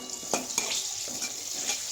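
Tomatoes frying with bay leaf and cumin are stirred briskly in a pan, a steady close sizzle broken by a few short scraping strokes of the utensil, with no voices.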